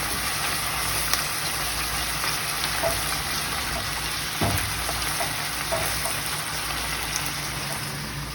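Meat frying in a pan for a tater tot hotdish gives off a steady, dense, loud sizzle that holds even and unbroken throughout, with no one talking.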